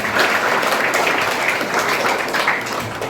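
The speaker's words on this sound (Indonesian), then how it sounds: "Tepuk tangan untuk kita semua" An audience applauds together at an Indonesian educational-aid event, a dense, steady wash of clapping that fills the whole stretch and eases off slightly toward the end, with no talk over it.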